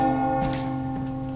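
Church bell ringing inside the Resident Evil 4 Remake demo, a sustained, resonant tolling hum that fills the short stretch with soft thuds over it and no talk.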